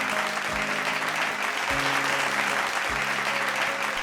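A crowd of audience members at a televised folk music competition applauds the two winners, dense sustained clapping throughout, with a few brief low thuds and faint tonal background.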